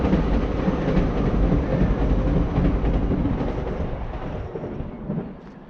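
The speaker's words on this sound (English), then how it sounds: "I'll just catch the train going past on the bridge up there." A train crosses the railway bridge at Berwick with a loud, steady, low rumble and faint rhythmic clatter, heard from below, fading slightly toward the end.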